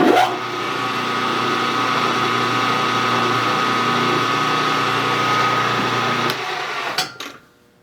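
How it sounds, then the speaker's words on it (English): A machine motor hums steadily at close range while a center drill cuts metal for a Stirling engine part, ending with a brief clatter as the machine winds down. "Center drill. That'll keep the holes straight across from each other."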